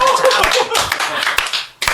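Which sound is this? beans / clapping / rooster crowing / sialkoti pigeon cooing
clapping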